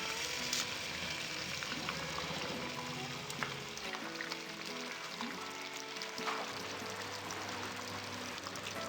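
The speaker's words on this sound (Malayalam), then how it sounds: "ഇനി തേങ്ങാപ്പാൽ കുറുകി എണ്ണ തെളിയുന്നത് വരെ വേവിക്കണം." Kerala fish curry simmering in thickening coconut milk until the oil separates, a continuous close, moderate sizzle and bubble with no talking.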